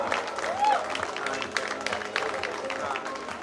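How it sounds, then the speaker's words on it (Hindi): Fashion show audience applauds runners-up at a grand finale, a moderate, somewhat distant patter of clapping mixed with crowd murmur and a voice over it. "जोरदार तालियां।"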